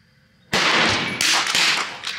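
A Vudoo rifle fires Eley Club and Target ammunition in one sharp, loud report that then rings on with a long, dense crack and rumble. Further bursts of echo follow over the next second and a half.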